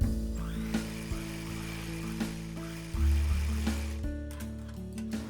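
A sewing machine runs in steady bursts while stitching a folded stripe onto a child's kameez. Its motor hum and mechanical rattle carry through the whole clip, with a heavier surge near the middle.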